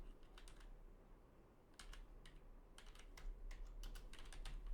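Keys on a computer keyboard are tapped in short irregular bursts, quiet and close, with pauses between clusters of keystrokes and no speech.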